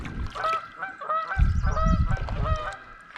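Geese honk repeatedly along the Ocmulgee River during a kayak camping trip, a loud, close series of harsh calls layered over one another with rough low noise underneath.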